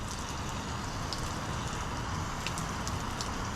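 Water is sprayed onto a car's ceramic-coated paint to simulate rain, a faint, steady hiss of fine spray and droplets that continues evenly without pause.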